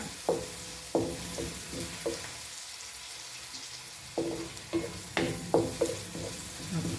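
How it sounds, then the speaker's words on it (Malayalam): Onions sauté in a pan with a soft steady sizzle, broken by repeated sharp scraping strokes of a spoon stirring them, close and fairly quiet. "നമ്മുടെ സവാള ഒന്ന് വഴന്ന് വരട്ടെ"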